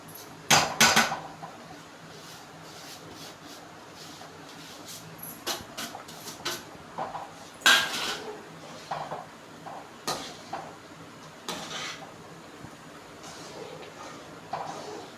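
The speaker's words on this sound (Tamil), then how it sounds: "இப்போது வறுத்து வச்ச ரவை அதை அப்படியே கடாயில் கொட்டிட்டு கரண்டி வச்சு நல்லா தொழவி விட்டுக்கோங்க" Roasted semolina stirred in a kadai with a ladle gives sparse metallic scrapes and clanks, some sharp and loud, spaced irregularly over a quiet kitchen background.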